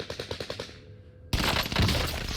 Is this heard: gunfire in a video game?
yes